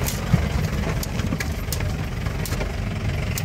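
A jeep engine idles on a Kerala jeep safari, a steady loud rumble with a slightly knocking texture running continuously for a few seconds, close by and without talk.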